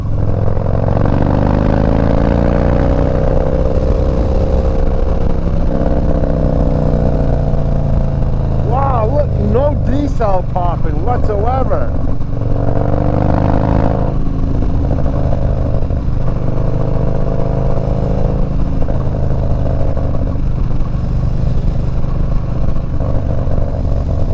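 Harley-Davidson FXDB 103 fitted with a Woods TW-222 cam, ridden in cold weather: a steady, close engine rumble running throughout, with a rider talking over it and a short rattling burst in the middle.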